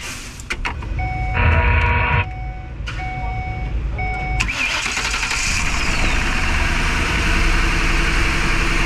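Engine of a Ford E150 van with a misfire and check-engine fault cranking and catching, with a few beeps over it, then settling into a steady, loud idle close by.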